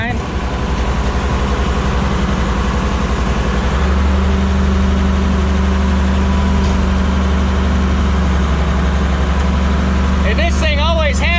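Combine harvester cutting wheat with the cylinder filler bars removed, a loud, steady low mechanical drone that deepens and thickens partway through, with a rising whine near the end.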